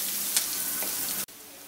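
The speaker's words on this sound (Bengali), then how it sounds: "পেঁয়াজটাকে হালকা করে ভেজে নিচ্ছি।" Onions fry lightly in a pan for a prawn and kohlrabi curry, with a steady close sizzle and a small clink before the sound cuts off abruptly near the end.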